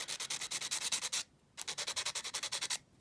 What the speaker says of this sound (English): I'm going to take a bit of sandpaper, clean off these contacts